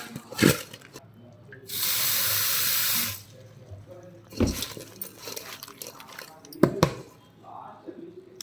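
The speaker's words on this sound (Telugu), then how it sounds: "కొంచెం వాటర్ వేయాలండి లైట్గా." Tap water poured onto cut bitter gourd pieces: a close, steady gush of water running for about a second and a half amid kitchen clatter and knocks, with a person talking at times.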